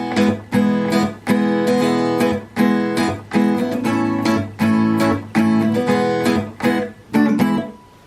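Strummed guitar chords from a song play in a steady, lively rhythm, each strum ringing briefly before the next, finishing with a final chord that rings out.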